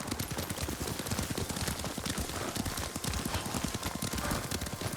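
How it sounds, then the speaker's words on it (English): Steady clip-clop of horse hooves at a brisk trot or canter from Ghost of Tsushima on PS5, a dense continuous rhythm of hoofbeats close and loud throughout with no talk over it. "Lord Sakai taught me to ride a horse."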